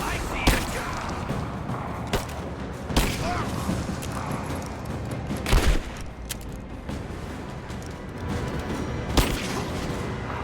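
Gunfire and explosive booms in the video game Rise of the Tomb Raider, with several sharp shots at intervals over a dense rumbling battle backdrop, while characters speak in between.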